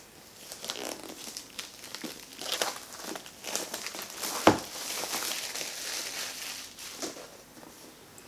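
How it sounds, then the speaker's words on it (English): Plastic packaging being opened on a DJI Mini 3 Pro drone box: soft, continuous crinkling and rustling up close, fairly quiet, with one sharper snap or tear partway through. "I'm looking forward not to cut or destroy the package and opening the plastic."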